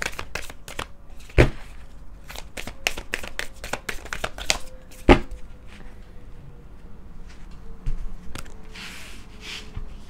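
Close, sharp slaps and riffles of silky-finish cards being shuffled in uneven bursts, with a faint hum behind and a quieter rustle toward the end.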